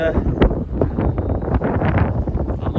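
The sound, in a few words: strong wind on microphone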